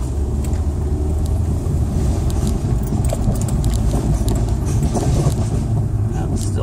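A car towing an empty trailer on a test drive, a loud continuous road rumble and engine drone filling the cabin, with light rattles and jangling over it.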